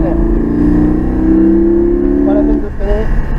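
Porsche Cayman GT4 accelerating hard on a race track, a loud sustained engine note climbing steadily in pitch for about two and a half seconds before easing off, with voices talking over it.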